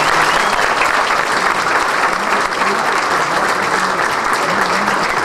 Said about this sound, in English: Let's give the Prime Minister a round of applause.